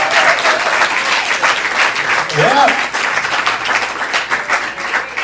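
Loud, sustained audience applause for a comedian at a stand-up class showcase, dense clapping from a nearby crowd with a voice talking over it.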